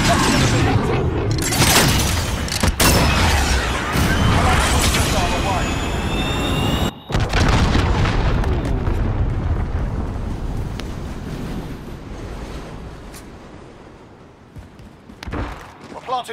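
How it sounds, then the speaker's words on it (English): A cruise missile roars off at launch and detonates in a Call of Duty: Modern Warfare online match: loud, dense rumbling blasts that ease into a fading tail, with players talking over it. "Cruise missile, go for launch."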